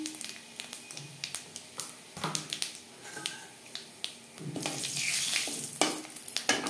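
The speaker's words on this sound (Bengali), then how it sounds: "ফোড়নে দিয়ে দেবো একটা তেজপাতা, 5 ফোড়ন।" Bay leaf pieces and Bengali five-spice crackle in hot oil in a kadai just used for frying fish, with a steady sizzle and sharp popping snaps throughout.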